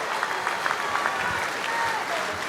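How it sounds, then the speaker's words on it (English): An audience applauds wool presser Vinny after the men's wool pressing final at the Golden Shears, a steady wash of clapping from a crowd that stays fairly even throughout, with some voices mixed in. "Give him a super round of applause."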